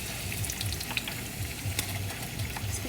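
Eggs frying in a pan on a stovetop, a steady soft sizzle with faint crackles and light utensil clicks, close and moderately quiet with no voices.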